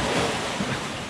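Rough sea waves surging and washing in a steady, noisy roar with wind buffeting the microphone, heard alone over a short stretch.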